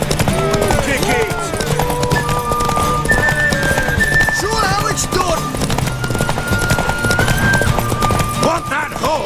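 Horse hooves clip-clopping steadily alongside repeated whinnies in The Witcher 3, loud and continuous over a game music bed with voices talking throughout.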